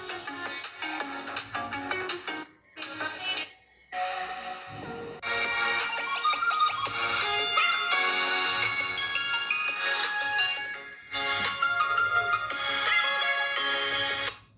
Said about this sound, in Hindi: यहाँ पे जो ऑडियो आउटपुट है वो मेरे वॉच के स्पीकर से आ रहा है। अभी मैक्सिमम वॉल्यूम पे है